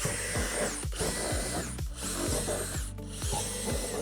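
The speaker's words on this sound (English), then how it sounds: "drill out on the back side in between the notches with a 3/8 drill bit" Power drill boring holes with a 3/8 drill bit into the notched rock wall panel of a Lifetime Adventure Castle playset, a continuous close whine with repeated rhythmic grinding pulses; no voices.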